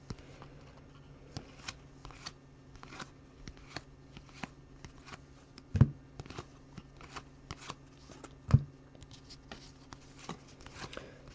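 Baseball trading cards pulled from a pack and handled during a case break, soft close-up rustles and flicks in an uneven stream, with two sharper snaps along the way.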